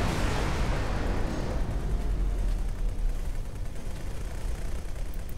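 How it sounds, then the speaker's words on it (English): A ship blows up in the space game X4 Foundations with a loud, dense rumbling blast that starts heavy and decays slowly into a sustained roar across the whole stretch. "Explosion imminent. Oh no, your ship's died."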